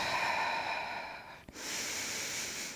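Steady breathing while holding a rolling-like-a-ball Pilates pose, a close, soft airy exhale that fades, a brief click, then another long breath in.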